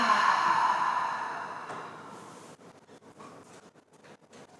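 A long, deep breath drawn in through the nose and released through the mouth during an intermediate yoga session, a soft airy rush that fades into quieter, uneven breathing.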